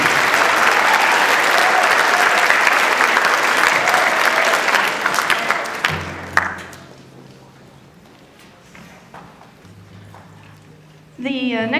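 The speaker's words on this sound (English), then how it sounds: "Let's give her one more round of applause" Audience at a winter band concert applauds after a trumpet solo: dense, loud clapping for about six seconds that thins out into quiet scattered claps, followed by a brief sharp sound at the very end.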